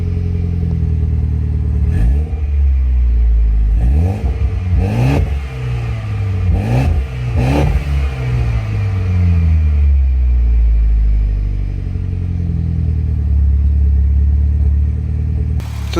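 A Mitsubishi Evo X MR engine runs steadily in the engine bay, a deep continuous rumble broken by several sharp revs blipped in quick succession near the start, then settling back to an even idle.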